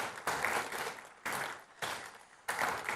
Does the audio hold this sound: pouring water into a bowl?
no